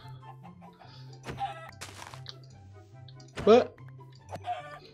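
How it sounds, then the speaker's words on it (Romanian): Minecraft chickens cluck in short, sparse bursts, with a louder squawk midway, beneath a steady game background tone and a person talking. "Ia uite, văd aici niște găini."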